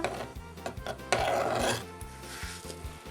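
A utensil scrapes and rubs steadily inside a glass, stirring dry yeast into warm water, a close, rasping sound that swells briefly before settling.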